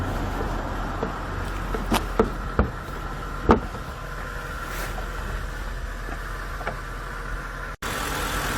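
A 2026 BMW M5 idling just after start-up, fitted with aftermarket intake and exhaust parts, gives a steady, low, even hum with a few faint clicks on top and no voices.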